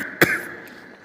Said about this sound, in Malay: nak isyak tu batuk pula